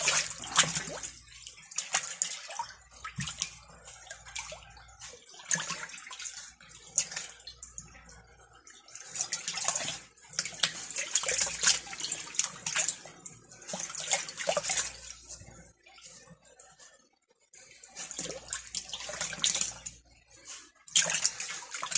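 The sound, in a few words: deer hide squished in a neutralizing water bath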